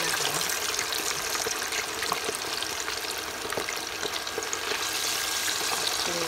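Chicken wing tips deep-fry in hot oil, giving a dense, continuous close sizzle and crackle with scattered pops that stays steady and loud throughout.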